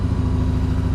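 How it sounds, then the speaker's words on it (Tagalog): A Benda Dark Flag 500 motorcycle on its stock exhaust sits idling close by, a loud even low-pitched rumble with a steady pulsing beat. "So, ganito yung tunog niya kapag nasa idle."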